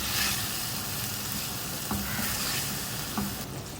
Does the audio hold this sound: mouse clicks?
no